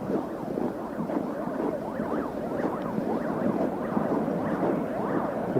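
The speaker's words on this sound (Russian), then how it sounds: "где-то там скорая едет" An ambulance siren wails with a steady rising and falling pattern as it moves along a street in the student campus area of Yakutsk, loud and continuous over distant city noise.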